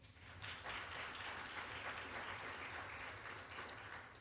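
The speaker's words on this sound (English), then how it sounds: "Can I get a round of applause for that?" An audience at a community impact day event on building Black wealth gives a round of applause, a steady, faint wash of many hands clapping at a distance.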